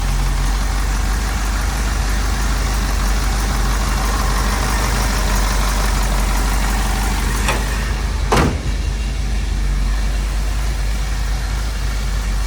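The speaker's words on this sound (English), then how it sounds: "Engine sounds good, exhaust sounds good." A 340 V8 in a 1972 Plymouth Cuda idles with a deep, steady rumble close by, running evenly throughout with a brief click or knock near the end.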